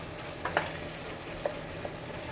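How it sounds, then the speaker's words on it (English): Browned 92% lean hamburger meat for chili sizzles faintly in a pan, a soft steady hiss broken by a few brief scrapes of stirring. "now I have browned my hamburger"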